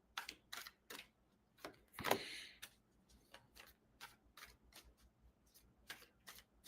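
Tarot cards are drawn and handled in a string of soft flicks and snaps, with one louder riffling burst partway through, close and fairly quiet with no speech.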